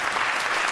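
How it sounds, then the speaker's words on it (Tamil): A brief, dense burst of audience clapping fills the moment at a Tamil stage debate program, steady and even throughout. "நீங்க எப்படி கைத்தட்டணும் அவங்களுக்கு"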